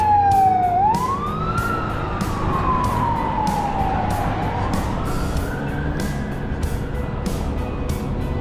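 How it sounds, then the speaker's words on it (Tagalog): A fire truck siren wails past on a Canadian street, its tone sweeping slowly up and down over steady traffic rumble, loud and close throughout. "may bumberong dumaan"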